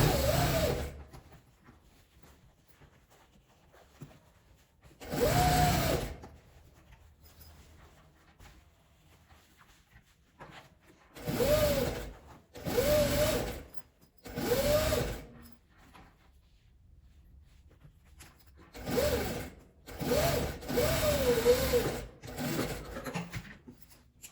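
A sewing machine topstitches along the zipper of a quilted zipper pouch in several separate runs, a few seconds each, with quiet pauses in between as the fabric is adjusted.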